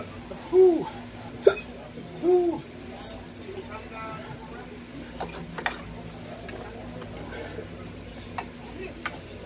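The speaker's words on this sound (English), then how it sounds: "As soon as I get hiccups." Two distinct hiccups sound close by during a burrito-eating challenge in a restaurant booth, each a short voiced gulp about two seconds apart. Faint clicks and background chatter follow.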